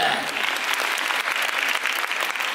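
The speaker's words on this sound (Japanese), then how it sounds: "拍手をしながらもっと叩け" A crowd claps continuously and fairly loudly during a singing and dancing show at Universal Studios Japan, a dense, even patter with voices and cheering mixed in.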